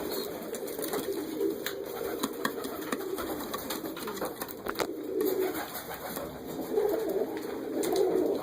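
Young Dutch high flyer pigeons, red and mottled birds just out of the nest, coo in repeated low rolling phrases at close range, with light rustling and a faint steady background hum.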